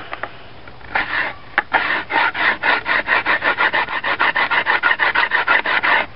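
The spine of a Mora knife scrapes down a length of bamboo in a steady run of close, loud, rasping strokes, quickening into an even rhythm with no talk over it.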